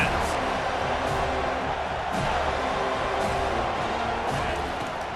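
Dense stadium crowd roar in College Football 25, steady and loud throughout, with commentary speech over it.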